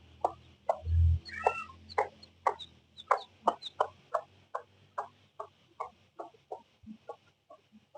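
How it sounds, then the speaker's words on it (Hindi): A hen clucks close by with a chick nearby, giving a long, steady series of short rhythmic clucks after one low thump near the start. "ये चूजा जा रहा है पीछे, ये मुर्गी।"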